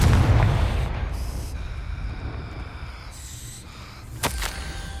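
A Confringo fire spell explodes in the video game Hogwarts Legacy, a loud booming blast at the start that rumbles away, followed by quieter whooshes and a sharp crackling pop near the end.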